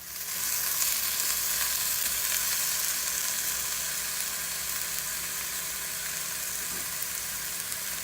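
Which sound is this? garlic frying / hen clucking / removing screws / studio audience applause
garlic frying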